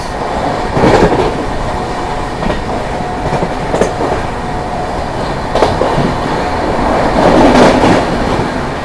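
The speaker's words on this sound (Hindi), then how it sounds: "हम लोग ओवरटेक करेंगे मेरठ सिटी सुबेदारगंज संगम एक्सप्रेस को।" The Anand Vihar Terminal–Prayagraj Humsafar Express overtakes the Meerut City–Subedarganj Sangam Express, a steady loud rumble of wheels on rails with rhythmic clatter and occasional swells as the coaches pass close by.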